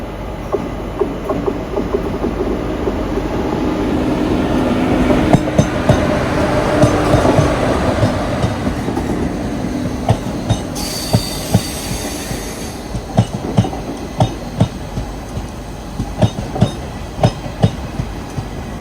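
A passenger train with hybrid coaches runs on rails past the Bharathapuzha river bridge toward Palakkad, a steady rumble with rhythmic clickety-clack of wheels over rail joints, some squeal and clinks, heard up close with no talk.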